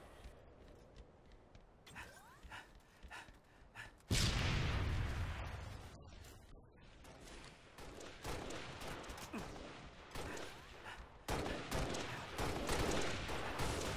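Rapid bursts of rifle fire in Halo: Reach Arena Slayer on the Kingdom map, loud volleys with brief pauses and echoing impacts, continuing across the whole stretch.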